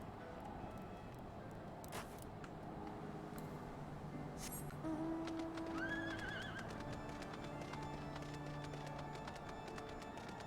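A horse in Final Fantasy XIV Heavensward gallops with rhythmic hoofbeats, then lets out a clear whinny midway, loud and close over a faint game soundtrack.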